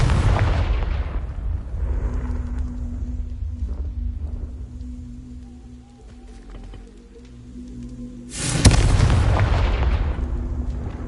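A Confringo spell blast in Hogwarts Legacy, a loud booming explosion that fades into a low rumble and quiet ambient tones before a second heavy blast erupts.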